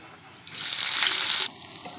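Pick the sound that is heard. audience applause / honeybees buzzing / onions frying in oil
onions frying in oil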